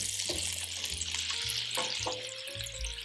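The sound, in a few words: sliced onions frying in olive oil and butter in pan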